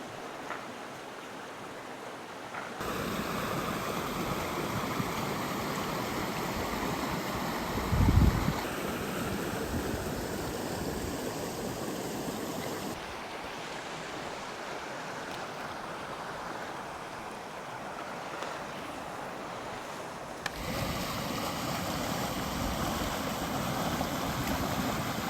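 Floodwater rushes steadily after a wind storm, a dense continuous roar of flowing water heard close by, with brief buffeting bursts and no talking.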